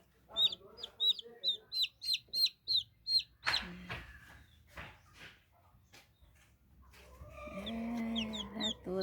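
Day-old chicks without a mother, kept warm by a hot water bag, peep in a quick, regular string of high, shrill calls. A soft knock follows, then scattered peeping returns with a low voice near the end.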